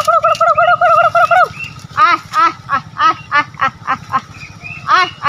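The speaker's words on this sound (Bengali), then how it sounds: "ঘরে কিছুগুলো হাঁস বাচ্চা রয়েছে" A group of ducklings kept at a home calls close by, with shrill trilling peeps at first and then a run of short, rising cheeps repeated in quick bursts. No one speaks.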